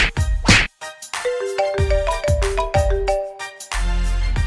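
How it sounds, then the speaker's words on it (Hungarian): A mobile phone rings with a melodic electronic ringtone, a series of bright stepped tones over thumping beats, loud and close, with no voices over it. "Kinek csönnök a telefonja?"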